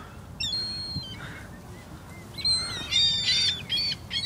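Birds gather while being fed outdoors, giving sharp squawks and chirps in bursts, some close and loud, with gaps of quieter background between calls.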